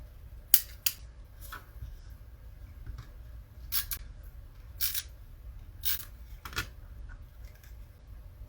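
Scissors snipping paper for crafted paper flowers, several short separate cuts spaced about a second apart, close and crisp against a quiet room.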